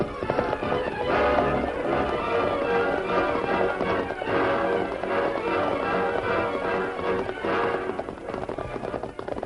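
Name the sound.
horses, hooves clip-clopping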